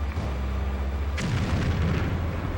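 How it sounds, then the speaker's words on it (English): A loud explosion bursts midway through a PlayStation 2 Stuntman stunt run, a sharp broadband blast with a rumbling tail, over steady low engine drone and game noise. "Explosion."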